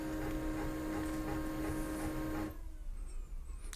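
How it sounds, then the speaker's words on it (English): A Pantum P2500W printer whirs and hums steadily with mechanical tones for a few seconds during setup, then its motor stops, leaving faint ticking and quiet room noise. "the printer will make some noises"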